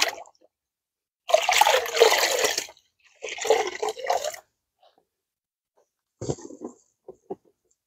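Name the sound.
water rinsing a car wash mitt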